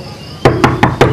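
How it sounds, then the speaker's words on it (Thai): Four sharp knocks on a door in quick, even succession, loud and close, following a short quiet lead-in. "ไอ้เข่งเปิดประตูดิเว้ย"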